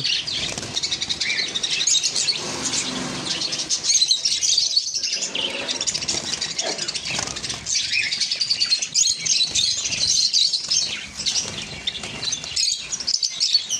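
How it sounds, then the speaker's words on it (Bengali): Black java sparrows and other cage birds in a bird shop fill the air with dense, overlapping chirps and tweets, steady and fairly close, with occasional wing flutters. "দোকানেতে এখন আছে বর্তমান 100-র উপরে ব্ল্যাক জাভা ফুল অ্যাডাল্ট 2 বছরের পাখি।"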